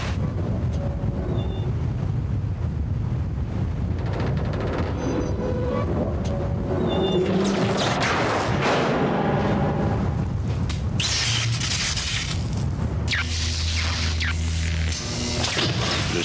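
Storm wind roars and buffets steadily throughout, loud and close, with gusting rushes, rattling and mechanical-sounding noise mixed in.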